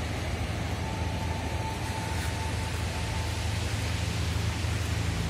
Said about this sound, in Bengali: আকাশ মেঘলা, আকাশে বৃষ্টি হচ্ছে, তারপরেও কিন্তু আমরা ভিজতেছি।